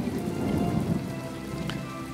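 Steady in-game rain from My Time at Portia pours across surfaces as a dense, even hiss with soft patter, continuous and fairly close, with no talk over it.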